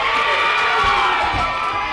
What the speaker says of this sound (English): Listen to the crowd here in Cornelia. They just exploded for the 2 count